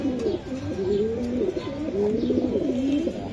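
Club pigeons, kept in pairs for sale, coo steadily in soft rolling phrases, close by and moderately loud, with slight background noise and no speech.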